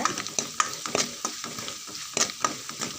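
Masala for a sardine fish curry sautés in oil in a pan, with repeated scraping spoon strokes and a light crackling sizzle close by, the strokes coming at an irregular rhythm and no one speaking.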